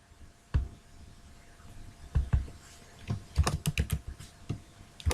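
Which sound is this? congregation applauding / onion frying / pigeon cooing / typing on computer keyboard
typing on computer keyboard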